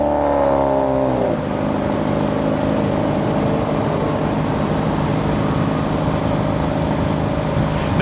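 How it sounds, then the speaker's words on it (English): A 2016 Jeep Renegade Limited with twin tip exhaust starts up: a brief cranking surge flares loudly, then settles into a steady, close idle rumble that holds on its own to the end. "This particular one has these nice twin tip exhaust on it as well, and it does actually make a pretty decent sound when you"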